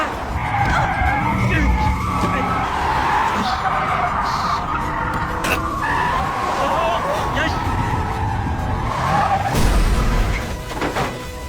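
Tires screech as a car skids after a deer runs out in front of it in a Korean drama scene, a loud sustained squeal over engine noise ending in a crash.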